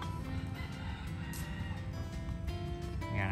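Chickens cluck and crow outdoors in a rural Vietnamese field area. Short, busy fowl calls overlap against steady ambient noise at moderate loudness, with no one talking.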